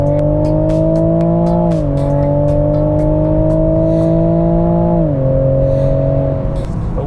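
A Toyota Supra in sport mode accelerates hard from inside the cabin, its engine note climbing steadily, then dropping sharply at each upshift before rising again, loud and close throughout.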